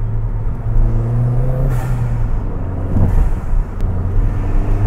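Close, continuous intake roar and turbo whoosh from a Ford Fiesta ST MK7 fitted with an induction kit, with hissing air surges and throttle-off puffs heard from inside the car.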